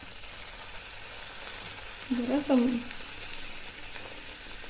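Puris deep-frying in hot oil in a kadai, a steady soft sizzle that swells briefly as dough goes in, with a short spoken word over it.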